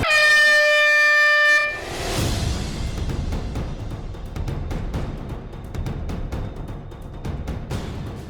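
A loud air horn blares for about a second and a half to start a task on a Telugu TV game show, followed by lively music with sharp beats.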